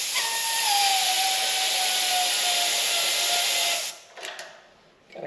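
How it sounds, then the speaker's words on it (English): Compressed air from an air gun hisses loudly and steadily through a seized tractor engine's carburetor, then cuts off abruptly near the end, followed by a few brief rattles. "Let me get an air gun and see if we can push it through and out the bottom of that carburetor."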